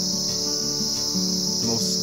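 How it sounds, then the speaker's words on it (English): Crickets chirp in a steady, continuous high trill throughout a Kashmiri apple orchard, loud and close with no voices over them. "Again, I'm telling you, listen to the crickets. It's beautiful."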